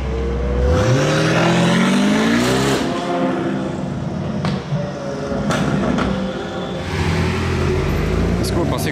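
Two Mansory-tuned supercars on a Monaco street, engines revving hard and rising in pitch as they approach and pass loudly, with a crowd talking over the roar.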